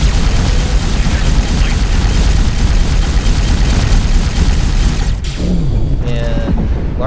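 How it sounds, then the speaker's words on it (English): A large ship exploding during space combat in X4, a loud, sustained rumbling blast that fades out near the end, with a single brief spoken word over it. "large ships like this will explode. So get away, or else the explosion could damage you."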